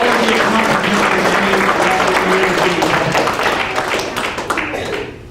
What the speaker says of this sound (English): Let's give these boys a round of applause.